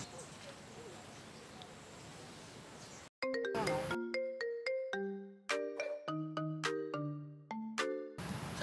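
A melodic phone ringtone plays clear tonal notes in a repeating pattern, loud and close, after a stretch of muffled background noise.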